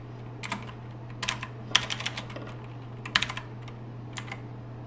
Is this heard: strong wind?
no